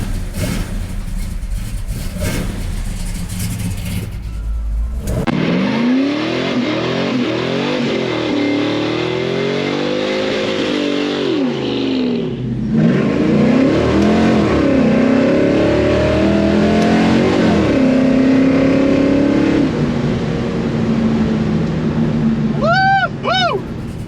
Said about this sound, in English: start it up, let you guys hear the exhaust from the outside